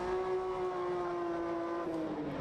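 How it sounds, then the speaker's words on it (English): A drift race car warms its tyres during qualifying at Bishopscourt, the engine holding a steady, fairly distant rev before the pitch dips slightly near the end, with no voices. "I see Kieran Lynch warming tyres"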